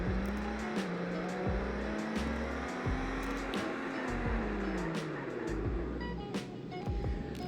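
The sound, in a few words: Toyota Supra braking from 100 mph in Roblox game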